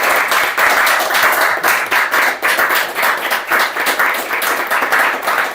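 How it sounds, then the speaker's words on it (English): Big round of applause from an audience for a guest named Rob, dense steady clapping throughout, loud and close with no talk over it. "can we have a big round of applause for Rob?"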